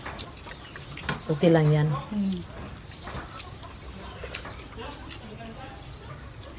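Chickens cluck in a short, fairly close burst of a second or so amid a casual outdoor lunch, with people chatting in Tagalog around them.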